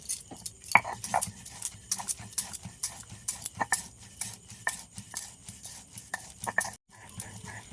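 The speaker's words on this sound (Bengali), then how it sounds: "আর এর মধ্যে দিয়ে দেব কয়েকটা কাজু ভেজানো, দিয়ে আমি একই শিলেই বেটে নেব" Soaked cashews are ground with poppy seeds on a shil grinding stone, giving close, rhythmic scraping and knocking strokes that repeat steadily with brief pauses and no talk.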